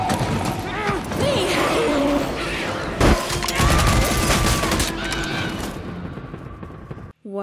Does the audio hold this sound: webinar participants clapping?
no